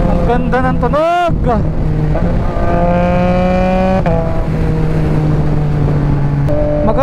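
A car engine is revved hard toward about 8,000 RPM, a loud, close whine with sweeping, climbing tones followed by a sustained high pitch, with voices speaking over it.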